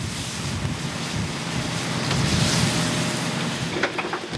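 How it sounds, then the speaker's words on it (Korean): Strong wind roars and high waves surge around a crab fishing boat at sea off Yeongdeok's Ganggu harbor in the 2004 snow crab season, a steady loud rush of gusts and surf with wind buffeting the microphone throughout. "바람이 거세게 불기 시작했다. 파도도 덩달아 높아졌다."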